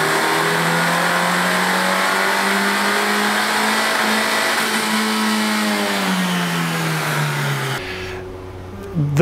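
A 2017 Honda Civic Si race car running a flex-fuel E85 tune revs hard, its engine note climbing and falling in a loud sustained sweep before dropping off abruptly near the end.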